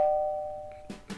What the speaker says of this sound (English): You told me to stand behind the door for 5 seconds and ring the doorbell.